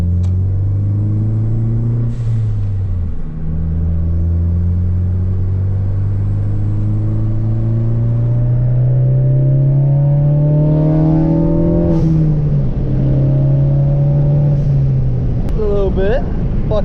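A Ford Focus ST engine climbs and drops through several rising revs and gear changes while driving, loud and rumbling close up, with a brief spoken word near the end.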